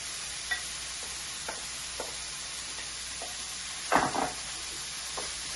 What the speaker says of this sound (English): So we'll start frying the bacon.